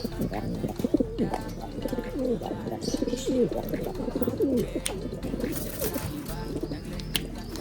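Pigeons coo repeatedly in soft, throaty rolling calls, close by, with light rustling and occasional background noise.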